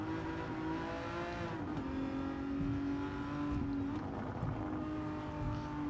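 A virtual Aston Martin DB11 in Gran Turismo 7 screams through the Tokyo Expressway tunnel, its engine drone holding high and steady with shifting pitch and a brief dip near a gear change, loud and without speech.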